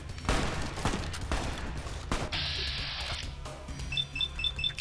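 Video game shooter gunfire: a few sharp shot bursts at the start and around two seconds, with game sound effects and beeping tones in between, all fairly loud.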